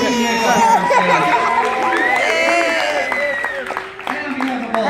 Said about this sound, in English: Let's do a huge round of applause for our awesome warm-up host, Kim,